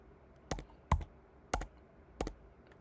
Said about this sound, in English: if I press P on the keyboard, it will just pause the game